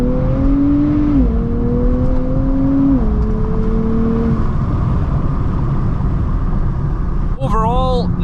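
A Nissan sports car with a 9-speed automatic shifted by paddles, the engine droning steadily and its pitch stepping through gear changes, loud and close inside the cabin.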